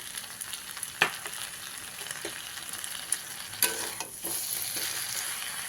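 Chopped tomatoes going into a simmering potato and brinjal vegetarian curry, a steady low sizzle with a few sharp clinks and stirring scrapes spread through, close and fairly quiet with no voices.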